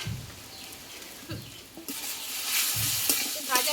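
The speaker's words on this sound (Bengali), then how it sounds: "মশলাটা দেওয়ার পরে আমি ভালো করে আলুর পোস্টটা একটু কষিয়ে নেবো" Mashed potato paste with roasted spice mix of cumin, coriander and fennel being sautéed in a pan for aloo paratha filling: soft stirring scrapes at first, then a rising steady sizzle with spatula clinks near the end.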